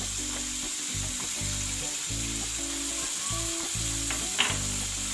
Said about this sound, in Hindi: लहसुन और अदरक के पेस्ट के अंदर हम इसे अच्छी तरह पका लेंगे।